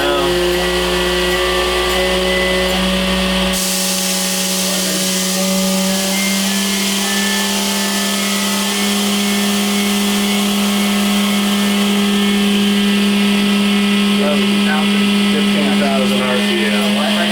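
A Hardinge DT-480P3 CNC drilling and tapping machine spindle spins at high RPM, a loud steady whine with sharp tonal harmonics that holds constant after an abrupt shift early on, with a voice talking over it.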